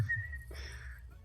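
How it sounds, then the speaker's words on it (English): A brief, thin whistle from players at a Dungeons and Dragons table, calling for a pet goat, rings out alone for a moment and then fades. "Are you all whistling for your pet goat?"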